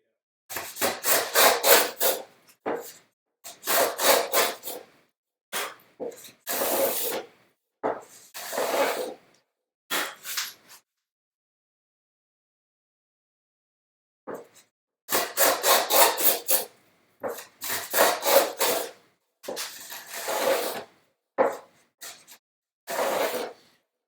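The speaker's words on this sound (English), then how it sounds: "Or I suppose I'll just go ahead and cut the whole dado." A hand saw cuts a dado in wood for a bookcase in bursts of rapid back-and-forth rasping strokes, close and crisp, with a long pause midway before the sawing resumes.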